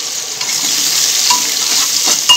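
Raw onion frying in a wok with cumin, bay leaf and chillies, giving a loud, steady close sizzle with faint stirring scrapes near the end and no voices.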